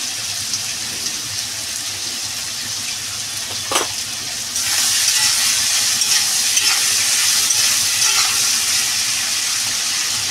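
Potatoes and onions frying in oil in a pan, a steady sizzle that grows louder and brighter partway through, with occasional stirring scrapes.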